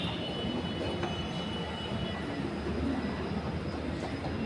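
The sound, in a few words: metro train arriving at station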